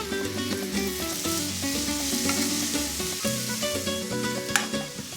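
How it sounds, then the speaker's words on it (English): Beets stirred in a hot skillet that had just been used for cooking ancho chiles, giving a steady, close sizzle with light scraping and stirring throughout and no one talking. "these beets are going to go into the skillet that we cooked those anchos in"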